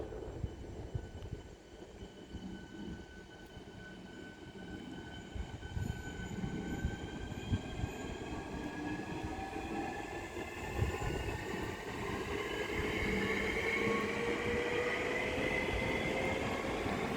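A Southeastern passenger train, the service from London Charing Cross to Sevenoaks, passes through Grove Park station on the South Eastern Main Line. Its steady rumble and wheel roar builds and holds loud and near throughout, with no talking.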